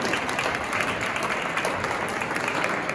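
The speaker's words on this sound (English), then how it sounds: "That deserves a huge round of applause." Audience applause at a Mississippi tourism association event, a steady, even roar of many hands clapping from a large room, sustained without pause.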